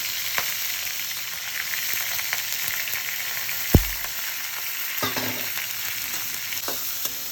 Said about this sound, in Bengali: ওগুলো এখন ভেজে নেব।